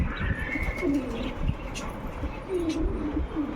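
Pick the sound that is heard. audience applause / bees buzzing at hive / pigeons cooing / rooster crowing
pigeons cooing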